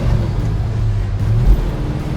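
Low, steady engine drone and road rumble from a 1965 Pontiac GTO cruising at moderate speed, heard from inside the cabin, continuous and fairly loud with no talking.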